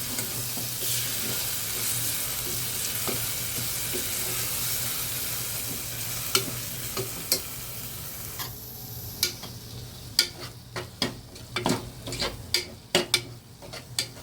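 A spoon stirs coriander powder into an aloo beans curry frying in oil, giving a steady low sizzle with a series of sharp scraping and tapping clicks against the pan that grow more frequent toward the end.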